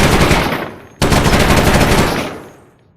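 Rapid automatic machine-gun fire from a weapon in the Fallout 4 VR video game, a loud dense burst that stops for an instant, resumes just as hard, then trails off.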